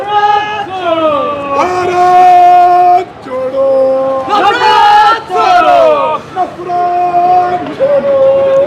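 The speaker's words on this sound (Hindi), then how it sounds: "ये स्थिति है क्योंकि इतना भयंकर भीड़ है, इस तरह से भीड़ है कि आप बस मत पूछिए।" A huge, dense crowd at a political rally march in a city centre with Rahul Gandhi, loud chanting and cheering voices rising and falling in waves, close and continuous.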